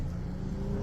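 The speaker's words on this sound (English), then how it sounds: "Yo, you hear the car, man? Heavy." A heavy car rumbles past close by, a loud, low, continuous engine and road drone lasting under a second.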